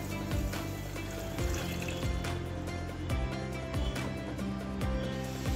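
Water poured into a pan with sugar to make syrup, a steady liquid pour sounding close and continuous, with faint kitchen clatter underneath.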